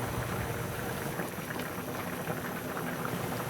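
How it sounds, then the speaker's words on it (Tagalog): Mung beans boiling in a pot for Filipino ginisang monggo with butobuto: a continuous soft, dense bubbling hiss, steady and faint, with no talk. "Hayaan lang natin na kumulo ito hanggang sa lumambot ang munggo"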